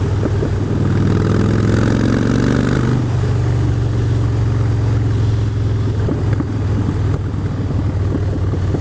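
A Harley-Davidson Street Bob motorcycle engine runs out on a ride, a loud, steady low drone that stays even throughout, with no voices.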